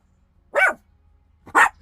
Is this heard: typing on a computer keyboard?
no